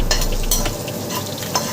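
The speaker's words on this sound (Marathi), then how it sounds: "आपल्याला अर्धा सेकंदासाठी असं छानपैकी परतवायचं आहे" Spring onion stir-fried briefly in leftover oil in a wok, a loud, close sizzle with scraping and tossing from a spatula, no voices.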